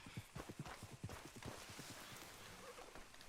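Horse hooves clip-clop in Red Dead Redemption 2, a brisk galloping rhythm of close, loud hoofbeats over the first half that blends into steady trotting and ambient game noise.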